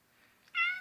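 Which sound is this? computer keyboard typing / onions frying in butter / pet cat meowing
pet cat meowing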